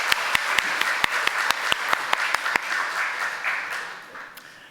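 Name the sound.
congregation applause in church service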